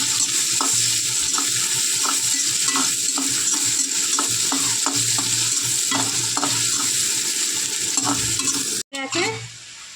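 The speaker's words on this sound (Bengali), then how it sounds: "পেঁয়াজটা ভালো করে ভেজে নেবো, নেড়ে চেড়ে।" A small onion frying in a pan for a ridge gourd and fish curry, a steady loud sizzle with a regular rhythm of stirring scrapes, and a brief clatter near the end.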